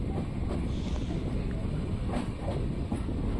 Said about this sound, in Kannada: ಸುಮಾರು 2 ಗಂಟೆ 12 ನಿಮಿಷ ತಡವಾಗಿ ಸೈದಾಪುರ ರೈಲ್ವೆ ಸ್ಟೇಷನ್ಗೆ ನಮ್ಮ ಟ್ರೈನ್ ಬರ್ತಿದೆ.